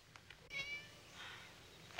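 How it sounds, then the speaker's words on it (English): A cat meowing once, a short faint cry heard at a distance against a quiet background, followed by a softer drawn-out sound, with no talk. "It was a cat."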